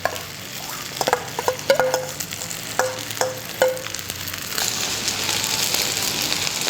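A rice mixture for Korean fried rice fries in a pan, with steady close sizzling and repeated scraping and clinking stirs that grow into a louder, denser sizzle toward the end.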